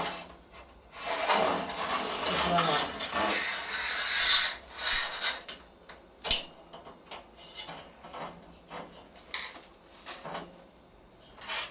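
A long aluminium strip used as a makeshift compass scrapes and rubs as a line is scribed, giving uneven raspy strokes and scratches with occasional sharp knocks and handling clatter, close and fairly loud.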